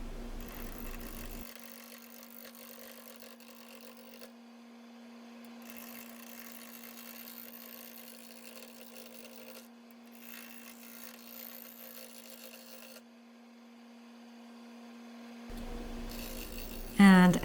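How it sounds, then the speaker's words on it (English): Maple bowl blank turning slowly on a wood lathe at about 250 RPM, cut with a Carter & Son bowl gouge: a steady motor hum under faint scraping cuts that come and go, with a louder stretch near the end. "I'm starting pretty slow on the lathe, about 250 RPM with the Carter & Son bowl gouge"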